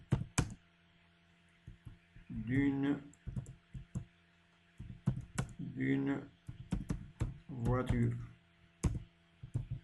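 Rapid clicks and taps from a computer keyboard come in uneven bursts, with a French-speaking voice talking between and over the keystrokes.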